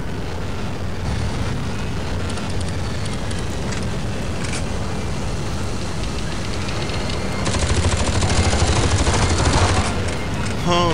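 A minigun in the shooter game Aliens vs Predator 2 rattles in a long, dense continuous burst, loud and unbroken, swelling harsher toward the end amid game noise.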